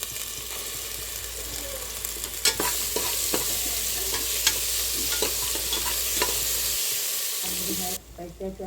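Mutton pieces frying and being stirred in a pan for mutton sukka: a steady loud sizzle with scraping stir strokes throughout, easing off near the end.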